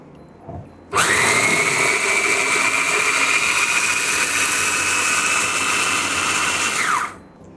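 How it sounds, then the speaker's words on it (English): A blender grinds soy paste at high speed for about six seconds, loud and steady, starting abruptly and winding down at the end. "I'm going to put it into my blender and grind it."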